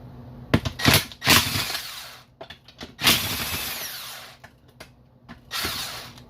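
A power tool spins out bolts during a MAXA transmission teardown, coming in loud, close whirring bursts of varying length that stop and start, with clicks and metallic handling between them.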